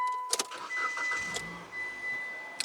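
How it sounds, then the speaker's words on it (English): A Mitsubishi Outlander Sport with a CVT and 180,000 miles cranks with a few sharp clicks and whirs, then settles into a quiet, low, steady idle heard close up. "Let's start her up."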